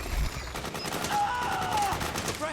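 Gunfire in Metal Gear Solid 4, with rapid automatic bursts crackling through a busy battle din, some shouting voices mixed in.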